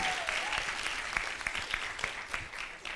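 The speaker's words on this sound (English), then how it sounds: "Another round of applause for this amazing panel" An audience at a women in engineering roundtable at a college applauds a panel, steady continuous clapping with individual claps standing out, moderately loud and close, with a faint voice briefly audible at the start.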